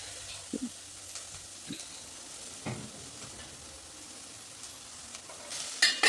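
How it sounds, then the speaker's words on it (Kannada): Onion and tomato frying in oil in a home kitchen, a faint steady sizzle with occasional stirring clinks and scrapes, louder near the end. "ಸ್ವಲ್ಪ ಎಣ್ಣೆನ ಸೇರಿಸ್ಕೊಂಡು ಈರುಳ್ಳಿ ಟೊಮೆಟೊನ ಹಾಕ್ಕೊಂಡು ಫ್ರೈ ಮಾಡ್ತಾ ಇದ್ದೀನಿ"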